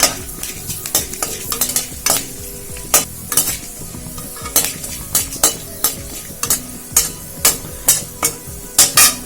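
Fenugreek seeds sizzling in hot tempering oil, a steady crackling fry punctuated by regular sharp clinks of a spoon stirring against the pan, close and fairly loud, without talk.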